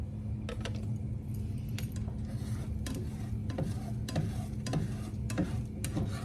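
Eggs scramble in a hot pan while a spatula stirs and chops them, giving a steady low sizzle under repeated sharp clicks and scrapes at an uneven rhythm.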